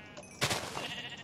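A single short, quiet sheep bleat from the Minecraft video game, rising briefly and then trailing off in a near-silent moment.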